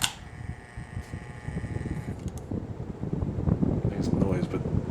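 A Casablanca Ventura ceiling fan runs on high speed, giving a steady airy whoosh and hum that continues under a voice as he talks throughout.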